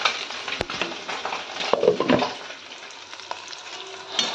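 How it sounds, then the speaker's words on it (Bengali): Small chuno fish frying in hot oil in a home kitchen give a close, continuous sizzle with a few sharper crackles and spatters, heard alone with no talking. "এই যে একটুখানি চুনো মাছ, এটা ভাজছি, চচ্চড়ি করবো"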